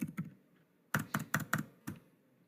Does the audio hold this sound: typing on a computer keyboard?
yes